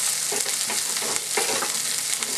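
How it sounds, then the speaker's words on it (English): Brussels sprouts sizzle loudly in oil in a frying pan, a dense continuous hiss with rhythmic rolling rattles as the pan is shaken back and forth, close by and with no talking. "what I'm going to do next is kind of shake this up a little bit. Kind of roll those around."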